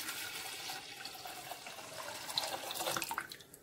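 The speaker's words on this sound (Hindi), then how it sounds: "तो अब हम इसमें 4 कप पानी डाल देंगे" Water splashes into a pot for Kashmiri noon chai, a soft gurgling pour that grows busier toward the end, with no voices.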